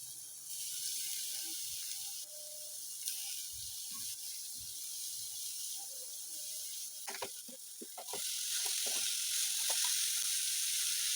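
Grated beetroot tipped into a hot pan, with a steady sizzle running throughout and a few scraping, clattering stirs near the end, close up and without any talk.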